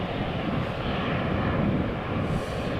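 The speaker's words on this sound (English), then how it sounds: "Shamrock, flight 603 going to Dublin, A320, 18 years old" Jet engine roar from an 18-year-old Airbus A320 airliner on Shamrock flight 603 to Dublin at Amsterdam Schiphol Airport, a steady, loud, broadband rumble that holds without breaks and has no talk over it.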